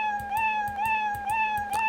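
Cartoon cat meow sound effect from the Scratch programming tool, repeated about four times in a regular rhythm, each a clear, loud, slightly rising mew.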